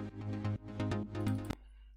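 Sidechained electronic music with instruments ducking under a pumping kick drum, the sustained chords dipping rhythmically on each beat before stopping abruptly near the end.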